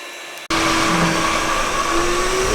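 A Samsung PowerBot r7090 robot vacuum switches on abruptly from near silence into a loud, steady motor whine and airy roar, with the pitch creeping slightly upward as it keeps running.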